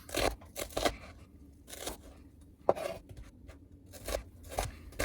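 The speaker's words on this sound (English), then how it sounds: "I like to cut my onion in half and then cut slices out of that" A knife slices an onion that has been cut in half, making crisp, close crunching cuts in uneven bursts with pauses between strokes, with no talk.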